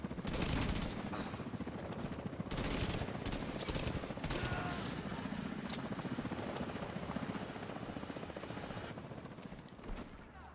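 A helicopter flies in a multiplayer shooter video game, its loud, continuous rotor chop running throughout, mixed with bursts of gunfire.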